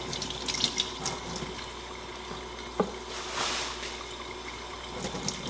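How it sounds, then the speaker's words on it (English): Tap water runs steadily into a kitchen sink while fresh rhubarb stalks are rinsed clean, a continuous close splashing hiss with small irregular splashes as the stalks are moved under the stream. "The first thing we're going to do is wash our rhubarb well."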